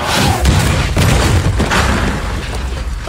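A door blows apart in an explosion in a film scene, a loud, dense, rumbling blast with bursts of heavy low-end impact that sustains for a few seconds without any talking.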